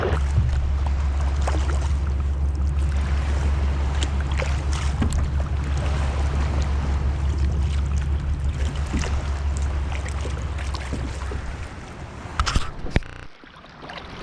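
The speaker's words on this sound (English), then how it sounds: "you guys can watch the Vashon ferry come into the dock" The Vashon ferry comes into its dock, heard from a beach as a steady deep low rumble under wind and water wash, fading near the end with a few nearby clunks.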